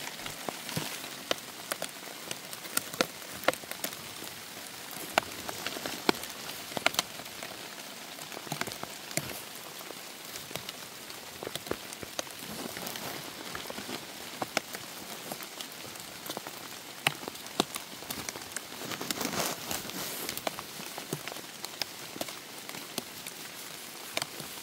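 Monsoon rain falls steadily on soil on a rainy-season day of transplanting pine mushroom spawn. It makes a dense, even hiss with scattered close drip ticks, and no one speaks.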